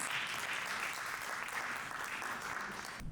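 A poetry event audience applauding as a poet comes up to the stage, dense steady clapping from a crowd that fills the room, moderately loud and without speech.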